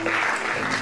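A church congregation claps in a brief, dense burst of applause, filling the space evenly for under a second.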